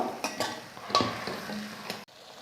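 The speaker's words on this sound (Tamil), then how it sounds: "உருளைக்கிழங்கு சேர்த்து நல்லா கலந்து விட்டுட்டு மூடி போட்டு மூடிடலாம்" A spoon stirs potatoes in a pan with soft scraping and clinks over a faint sizzle, followed by a short clatter as a lid goes on and the sound abruptly dulls.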